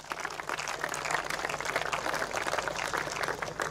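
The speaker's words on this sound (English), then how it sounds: "Please, a big applause for the City of Sneek." Audience applause at a 2024 European float fishing championship prize ceremony, steady clapping from a crowd sustained throughout at moderate volume.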